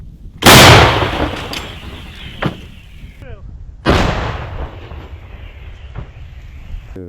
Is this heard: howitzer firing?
yes